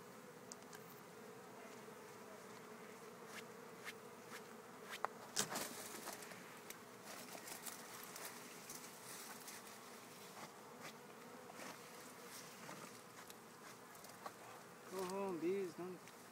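Steady insect buzzing fills the clip, a continuous drone of several bees with louder passes near the end, over faint outdoor background.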